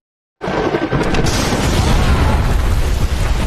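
A lightning strike explodes at a dug well in a dramatic film effect: a sudden, loud, sustained roaring boom that begins abruptly after a moment of silence and rumbles on without fading.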